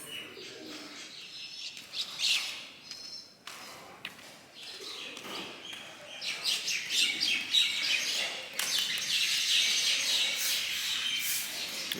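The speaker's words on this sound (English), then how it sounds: "It's a very calm and peaceful environment with the birds chirping" Birds chirp and tweet around a palace temple, with doves cooing among the calls, a steady outdoor chorus that builds over twelve seconds, moderately near and without talk.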